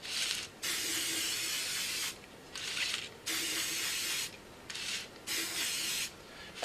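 Spray paint hisses from an aerosol can onto a styrofoam pumpkin in bursts of about a second or two each, five or six close, steady sprays separated by short pauses, with a brief word spoken at the start.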